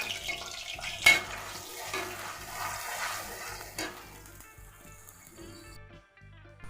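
Onion paste and ginger-garlic paste frying in hot oil, a soft uneven sizzle with a few clattering knocks, fading quieter toward the end.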